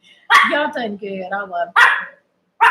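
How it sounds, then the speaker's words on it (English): A dog barks a few times close by, the short harmonic yelps overlapping with people talking and laughing in a casual room setting. "Stop barking."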